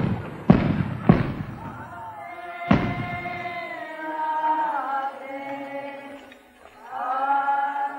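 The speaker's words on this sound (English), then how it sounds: "rockets announce it's all over" Dynamite rockets explode at the close of the Douro grape harvest in Portugal: a few sharp bangs in the first seconds, then a lingering hum with tonal voices or crowd sound underneath.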